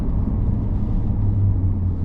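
A 2024 Ferrari 296 GTB drives with a steady, low engine rumble heard from inside the cabin. A brief rising hum lies over the drone, and no one speaks.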